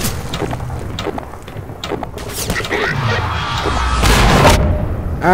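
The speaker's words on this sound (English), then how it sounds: "that was a Strider's cannon." A Strider's cannon blast in the video game Half-Life 2 rises into a loud, swelling roar over busy game noise and a low boom, building toward the end of a chaotic combat scene.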